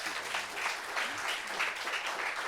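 A studio audience claps in a steady, moderately loud round of applause with uneven swells, no voices on top.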